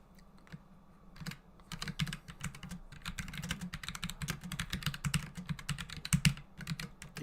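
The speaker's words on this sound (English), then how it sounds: "I got the full keyboard here. I can type." Rapid typing on a full computer keyboard, close and quiet, with irregular bursts of key clicks that pick up pace and continue steadily without talk.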